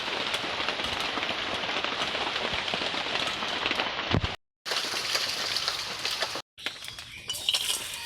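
Steady rain pours down outdoors in a rural Bengali setting, a dense continuous hiss of drops on surfaces, broken by two brief gaps of silence near the end.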